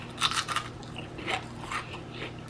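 Crunchy, hard-fried catfish being bitten and chewed up close, a few crisp crunching bites over about two seconds, fairly quiet with no talking.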